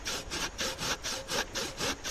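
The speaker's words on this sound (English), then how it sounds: "sawing with the other." A dull old fixed-blade hand saw cuts through wood in about eight steady back-and-forth strokes, a close, rhythmic rasping with no talk.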